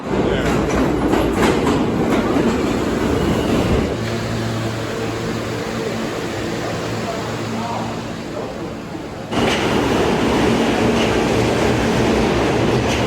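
A New York subway train rumbles and clatters along the rails, loud and continuous, with a brief shift in tone midway before the roar swells again.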